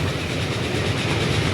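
Train running on rails in Transport Fever 2, an express rolling at top speed with a dense, steady rumbling roar and faint clatter, loud and continuous with no voices.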